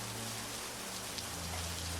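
Steady dense rainfall fills the scene in an LSDJAM game, a constant close wash of raindrops over a low humming drone, with no voices.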